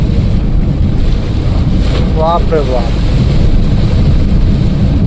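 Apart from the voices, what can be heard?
heavy rain on a moving vehicle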